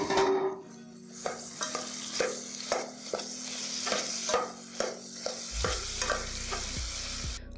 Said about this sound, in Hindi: अब इसमें डाल रहा हूँ उबले हुए आलू।